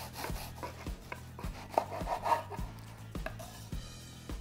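A knife cuts through a grilled prosciutto and provolone panini, a run of close, crisp rasping strokes and crunches repeating steadily against the bread and wooden board.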